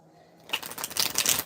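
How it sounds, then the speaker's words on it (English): Brief riffle of tarot cards being shuffled close by, a quick flurry of flicking card edges starting after a quiet moment and rattling on to the end. "extra shuffle here"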